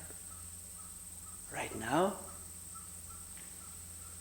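A single bird calls once, a short harsh cry rising over a steady insect drone, while a person speaks briefly at a retreat.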